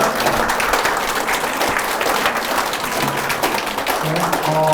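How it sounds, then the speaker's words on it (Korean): A conference-room audience at a press briefing claps loudly and continuously for a lawyer, dense applause throughout with a faint voice under it toward the end. "모두 큰 박수 한번 보내주시면 감사합니다."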